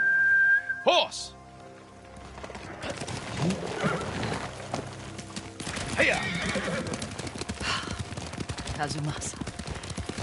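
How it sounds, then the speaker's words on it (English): Horse from the Ghost of Tsushima video game, with hoof clip-clops and a brief whinny-like call near the start, followed by steady riding sounds under game music and ambience, with speech present. "Horse!"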